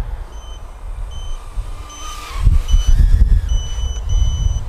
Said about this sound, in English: It sounds good, apart from its constant beep